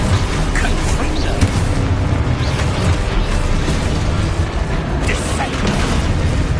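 Fire-blast Confringo spell explosions in Hogwarts Legacy gameplay, a dense, loud continuous rumble of booms and bursts with game effects layered throughout.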